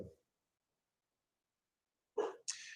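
Dogs in a home, a short low sound at the start followed after a long silence by two sharp bark-like bursts close to the microphone, with no talk.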